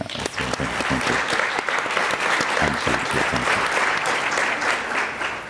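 An audience at an ocean summit applauds steadily, a dense, sustained wash of many hands clapping at even loudness throughout, with no talking over it.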